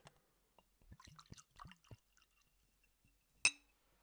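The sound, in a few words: water poured into a glass with a clink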